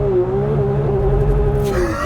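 2024 Porsche 911 S/T under launch-control acceleration, a loud, steady engine drone with a sustained pitch and heavy low rumble filling the whole clip, building slightly toward the end.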